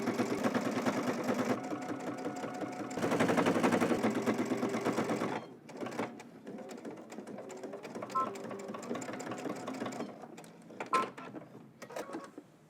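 A sewing machine top-stitches a quarter-inch row on baggy sweat pants, running in steady bursts for several seconds, then stopping and restarting in shorter runs with light handling clicks between.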